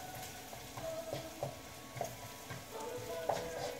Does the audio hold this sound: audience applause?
no